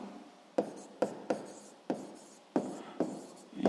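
Pen or pencil strokes scratch across paper while working a sixth-grade math problem on ring area, a close run of short rasping marks and taps with brief pauses between them.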